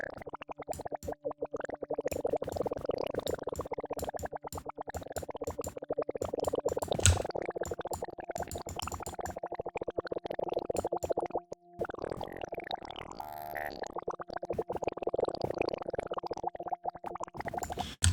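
Synthesized watery sound effect built with stock FL Studio plugins and granular textures: a continuous, bubbling, gurgling texture with rapid plopping pulses, steady and moderately quiet, briefly dropping out near the end, with no voices.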